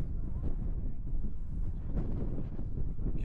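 Low, steady wind at the Ale's Stones megaliths in Sweden rumbles and buffets against the microphone throughout, a continuous blustery roar with no clear other sounds.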